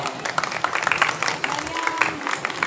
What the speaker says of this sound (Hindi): मरियम जुल्फ़िकार राव के लिए तालियां हो।